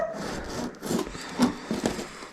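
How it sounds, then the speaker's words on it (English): A knife saws through a rainbow trout during filleting, giving soft rhythmic rasping strokes, close and fairly quiet, with no talking. "when you saw, I try to push the knife down, kind of like this, and try to keep the blade as close to"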